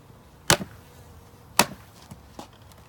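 Two sharp thumps a second apart, each from a honeybee package box being snapped down hard to shake bees off the top, followed by a couple of fainter knocks, with a faint bee hum beneath.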